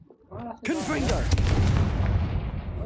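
The Confringo fire spell goes off in Hogwarts Legacy as a sharp blast that rolls into a rumbling, crackling burst. A voice sounds just before it.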